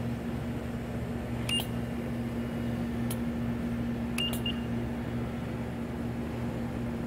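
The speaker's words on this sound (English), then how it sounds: "As you're raising up the loop, it beeps to allow you to indicate that you're at your top of your loop" A West Bond 747730E wire bonder with a Nikon SMZ660 microscope gives short electronic beeps at the top of the loop, three separate beeps over a steady machine hum.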